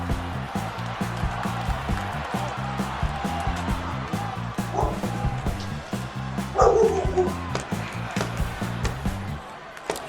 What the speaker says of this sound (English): My dog's in the broadcast booth